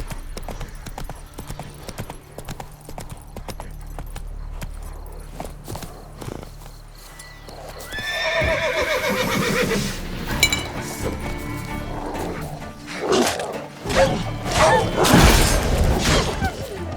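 Horse hooves clip-clopping with a neigh from the horse in The Witcher 3, set against an ambient game soundscape; a rising burst of layered game sound and clinks swells in the second half.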